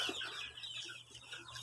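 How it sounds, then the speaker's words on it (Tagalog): Newly hatched chicks in a farm brooder give soft, scattered peeps and clucks. Under these calls runs a low, steady hum. "Dito namin ilalagay yun yung mga bagong pisa na sisiw."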